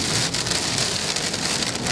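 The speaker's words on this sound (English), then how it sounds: "We get hail." Big hail pelting down during a storm near the Washington coast: a loud, dense, continuous clatter and hiss of impacts with no pauses and no talking.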